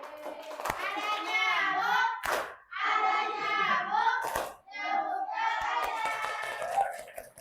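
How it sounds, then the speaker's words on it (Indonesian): Elementary-school students clap in a classroom, a few sharp claps breaking through loud children's voices chanting or singing together over several seconds. "Tepuk tangan."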